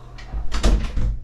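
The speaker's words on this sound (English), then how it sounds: "Shut that door." A household door is shut indoors after a dog is let in, making one close, solid thump with a brief rattle and no talking.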